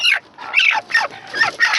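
An agitated broody hen, disturbed at her eggs, gives a run of harsh, rasping squawks, four or five in quick rhythm, loud and close with no talking.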